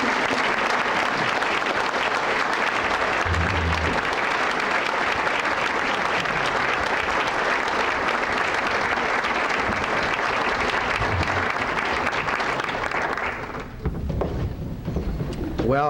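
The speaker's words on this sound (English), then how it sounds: "he deserves really a thunderous round of applause" Sustained, loud applause from a banquet audience at a 1999 Chamber of Commerce awards dinner in Fairfield, Iowa, dense steady clapping for most of the span before it thins and tapers near the end.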